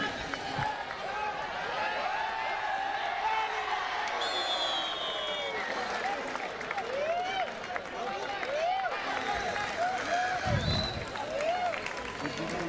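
Crowd applause and cheering welcome a police officer at a sports club semi-final between Brahma Sports Club and Parla Sports Club, a steady wash of clapping lasting throughout with a voice talking over a PA above it.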